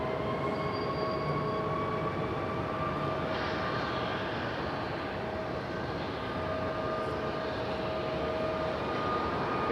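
A Copa Airlines jet takes off from Raleigh-Durham bound for Panama City, its engines giving a sustained, dense roar with thin whining tones running through it, steady and fairly close, with no talk.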